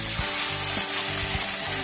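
Water poured into a pan of onion and garlic frying in oil sets off a loud, steady sizzle that runs the whole short stretch, with a few soft stirring knocks underneath.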